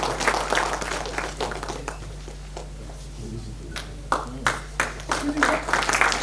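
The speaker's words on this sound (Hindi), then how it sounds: "आपकी तालियां बजती रहनी चाहिए, करतल ध्वनि सुनाई देती रहनी चाहिए" An audience at an award ceremony for an annual art exhibition applauds in uneven bursts of hand claps that swell and thin out, with a voice heard in the room.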